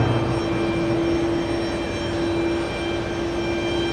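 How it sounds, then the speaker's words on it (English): A C-17 Globemaster military jet runs up on runway 4 Left at JFK Airport. Its continuous engine roar is layered with a strong steady whine and holds at a fairly even, moderately loud level throughout. "C-17 Globemaster taking off in just a bit."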